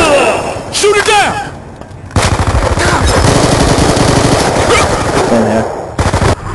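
Rapid automatic gunfire rattles in a video game firefight, loud and continuous for several seconds, with a brief earlier burst and excited voices shouting over it.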